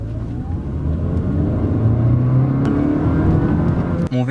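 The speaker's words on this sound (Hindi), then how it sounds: "और अब 0-60 हम करेंगे फुल थ्रॉटल पे।" Honda Vezel accelerating from 0 to 60 at full throttle, a loud, steady engine drone rising in pitch, heard from inside the cabin and ending abruptly.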